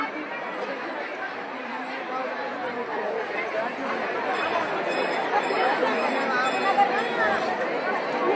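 Large crowd of pilgrims gathered at Dehu for the Tukaram Maharaj Beej festival, a continuous roar of mingled voices and chatter that swells slightly louder in the second half.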